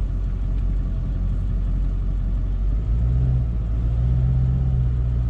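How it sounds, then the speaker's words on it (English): A car slows at an x-ray checkpoint on the US border, its engine rumbling loud and close. The low drone shifts in pitch partway through as the vehicle eases along. "And that car slows its roll."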